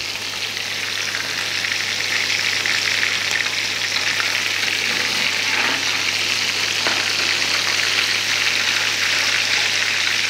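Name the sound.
chapli kabab frying in a pan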